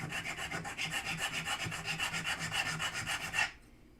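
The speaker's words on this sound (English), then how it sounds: "And now it just needs to be filed to the other edge." A file rasps along a soldered metal seam, evening it to the edge: a quick run of steady back-and-forth scraping strokes, close and alone, stopping abruptly near the end.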